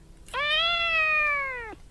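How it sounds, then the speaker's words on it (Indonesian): A single clear cat meow, drawn out for over a second and fairly close, with a quiet background. "Kiki bingung karena Jiji yang mengeong"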